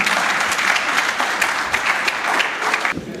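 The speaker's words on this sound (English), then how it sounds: "Let's give him a round of applause." A seminar audience applauds a guest speaker at a tech careers event, steady, full clapping from a roomful of people that continues evenly and fades slightly at the end.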